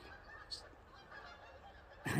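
Faint outdoor quiet at a lake campsite broken by a distant honk and then a louder burst of geese honking at the end.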